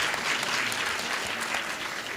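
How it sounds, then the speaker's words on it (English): Dense, steady applause fills a town hall meeting at a leadership summit in Destin, Florida, the many hands clapping together in an even wash with no pauses. "Give yourselves a round of applause for being here in Destin"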